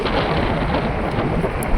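Rain falls hard on a mountain road between Jang and Itanagar in Arunachal Pradesh. It is a loud, unbroken roar of downpour, close and wind-buffeted, with no voices.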